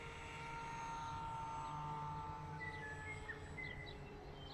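A faint, distant buzzing RC plane motor, losing power on a dying battery, drones steadily in the open air, with light outdoor background noise.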